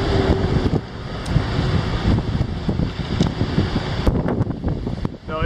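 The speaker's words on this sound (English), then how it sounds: "It is so fucking windy out here right now." Strong wind in Valparaiso, Chile buffets the microphone with a loud, continuous roar and rumbling gusts, with scattered small clatters on top.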